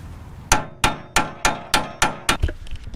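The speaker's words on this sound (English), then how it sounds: "push this out without messing that boot up with a pickle fork" A hammer strikes a pickle fork driven into a car's ball joint, seven sharp metallic blows in an even, steady rhythm, loud and close with no talk.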